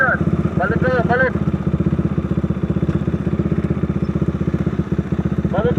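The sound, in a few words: 400cc motorcycles on expressway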